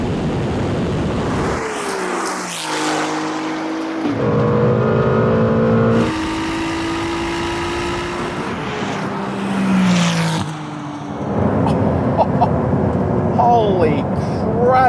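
Ferrari 296 GT3 race car accelerating hard in a drag race against a 296 GTB road car, loud engine roar climbing through gear changes, with an excited voice talking over it.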